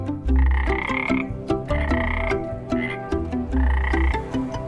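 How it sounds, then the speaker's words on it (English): Frog croaking as a sound effect in a children's story, a loud close chorus of rhythmic, repeated croaks pulsing steadily throughout, with no speech. "As Daisy drifted, she saw her friend Charlie the Frog hopping by the water's edge"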